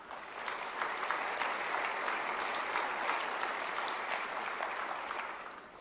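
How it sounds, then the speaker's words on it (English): A large audience of about a thousand leaders at an innovation conference breaks into sustained, dense applause that holds steady and full throughout, then eases slightly at the end. "Please give yourself a round of applause."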